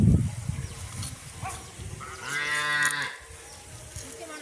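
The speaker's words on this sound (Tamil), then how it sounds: "இப்போ மாடு வந்து பட்டிக்கு போய் கொண்டிருக்கோம்" A cow gives a long, deep moo at moderate distance as village cattle head to their pen, amid outdoor background noise, with rustling and a thump at the start.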